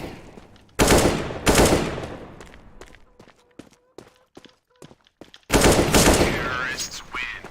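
Loud bursts of gunfire in a shooter video game, a rapid volley early on and another near the end, with quieter clicks and footsteps between them.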